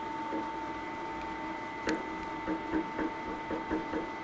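Milling machine taking a 0.5 mm depth of cut on an aluminum fixture plate, giving a steady machine hum with a sharp tone and a string of short rhythmic cutting bursts, moderately loud and close with no talk.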